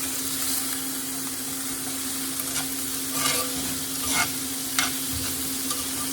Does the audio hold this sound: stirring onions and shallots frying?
yes